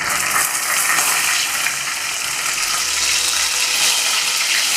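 Green chillies and black cumin (kalo jeere) tempering in hot oil in a home kitchen, making a steady dense broadband sizzle and crackle that holds evenly throughout, close and fairly loud, with no talking.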